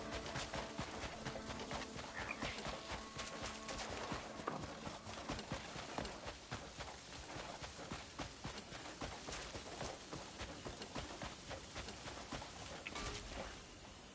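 Horse in the Crimson Desert video game, a steady run of hoof clip-clops at moderate distance over continuous game ambience, with faint bird calls in the background.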